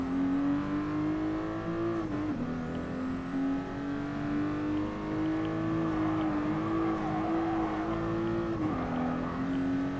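Mazda MX-5 engine revving in the racing game Gran Turismo Sport, a steady droning engine note that rises and dips with gear changes, continuous and loud with no talk.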